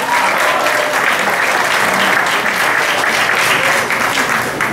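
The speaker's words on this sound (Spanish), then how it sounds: "Aplausos fuertes." Loud, dense applause from a festival award ceremony audience fills the room steadily for several seconds, close and continuous, with no voices standing out.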